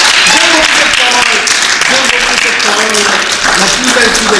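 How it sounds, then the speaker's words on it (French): An audience at a church gathering breaks into loud, sustained applause, with voices and cheers mixed into the dense clapping throughout. "Est-ce qu'on peut applaudir?"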